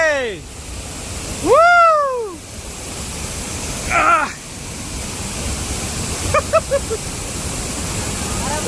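Mala waterfall near Karkala in Udupi pours with a steady broadband roar throughout, while rising and falling whistle-like voice calls and brief chatter cut across the rushing water.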